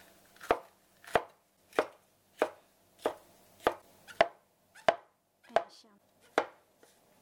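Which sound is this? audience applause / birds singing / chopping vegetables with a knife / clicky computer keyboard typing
chopping vegetables with a knife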